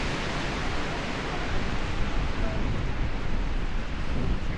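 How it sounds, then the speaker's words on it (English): Loud, constant rumbling buffet of wind hitting a microphone on a mountaintop, dense low roar throughout without clear speech. "It's really windy up here"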